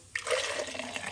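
Green juice poured out of a container, a sudden splashing stream that starts sharply and keeps running steadily, close and fairly quiet.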